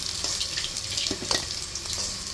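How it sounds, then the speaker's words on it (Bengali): Katla fish frying in hot oil in a village kitchen gives a steady, close sizzle with a few brief spatters and clinks throughout. "হয়ে গেছে ভাজা নামো মাছ ভাজা হয়ে গেছে নামো"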